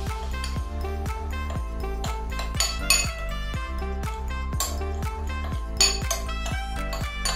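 A spoon scrapes and clinks rhythmically against a bowl while salt, paprika, onion powder and garlic powder are stirred together for a baby back rib rub, a steady run of close, bright metallic taps.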